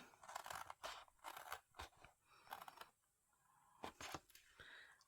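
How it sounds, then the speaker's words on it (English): Scissors cutting paper card along a score line for a papercraft treat box: a quick series of crisp snipping crunches in short bursts with brief pauses, close and quiet, with no talk. "what I'm going to do is I'm going to cut up this first line here"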